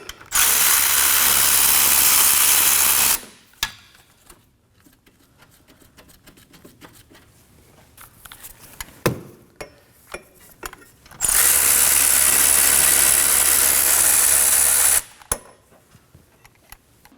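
Power tool backing bolts out of a brake caliper on a 2016 Kia Sorento rear brake, heard as two loud sustained whirring bursts separated by quiet clinking and handling noises.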